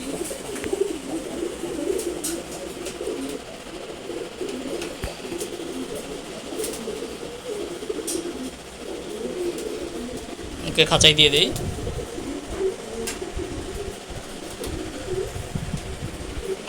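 Male Giribaj pigeons coo softly and continuously in a cage, a low murmuring texture throughout, while someone speaks over them and a brief clatter breaks in near the end.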